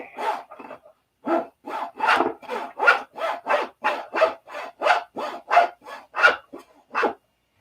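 Plywood being sanded by hand: a run of about fourteen evenly spaced, rasping strokes, close and fairly loud, forming a steady back-and-forth rhythm with short gaps in between.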